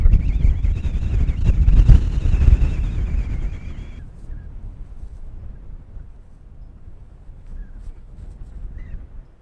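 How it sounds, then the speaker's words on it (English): Strong gusts sweep across a disc golf course, loud rumbling buffeting on the microphone for the first few seconds, then easing to a softer, steady rush of wind. "I've never played disc golf in this windy of conditions"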